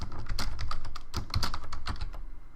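Rapid, irregular keystrokes clatter on a computer keyboard while HTML is typed, close and clear, with no voices over them.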